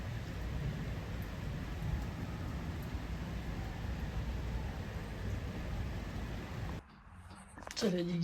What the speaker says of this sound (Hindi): बारिश हो रही है, हवाएं चल रही हैं